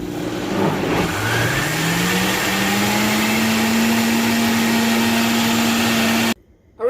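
A blender runs on high mixing crêpe batter, a loud steady whine that rises in pitch as the motor spins up and holds for several seconds before cutting off abruptly.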